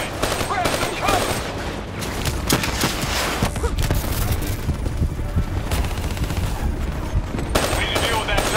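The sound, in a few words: turret gunfire in the video game Call of Duty: Black Ops III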